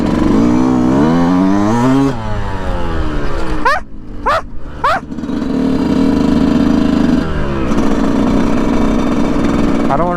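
A 125cc dirt bike engine revs loud and close at a construction site, with steady harmonic tones rising and falling, a sharp burst of rapid rev spikes near the middle, then sustained high revving.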